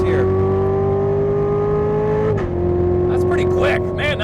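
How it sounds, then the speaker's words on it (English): A 2015 Chevrolet Corvette Z06 powering uphill on a race track, its engine a loud steady drone inside the cabin that dips at a quick gearshift and climbs again, with someone talking over it. "turn in, hard right, on the throttle, up the hill"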